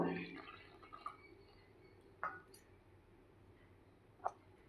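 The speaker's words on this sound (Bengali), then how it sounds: "এখন এখানে অল্প অল্প করে জল দিয়ে আমি গুলিয়ে নেব" Water poured little by little into dhokla batter being mixed: soft liquid splashes and a few isolated drips and clicks spaced across a quiet, faint stretch.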